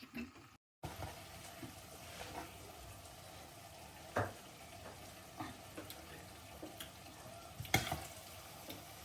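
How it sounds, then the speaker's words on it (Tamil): Steady low bubbling and sizzling from a pan of eggplant curry with milk simmering on the heat, with occasional soft clinks and stirring noises, close by. "ஒரு நிமிஷம் கொதிக்க விட்டுட்டு வைக்கணும்."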